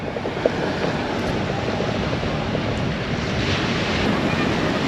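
Ocean surf washes continuously on a beach in Crete, a steady broad roar mixed with heavy wind buffeting the microphone, with no clear breaks between waves.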